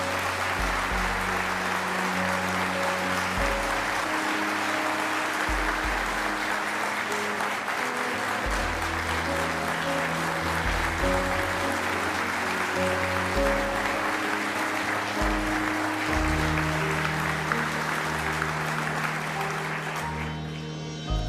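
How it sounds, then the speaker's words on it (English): An audience at a patriotic speech claps steadily throughout, a dense sustained round of applause heard close, with a low hum and faint voices beneath. "Yeah, you can clap for that."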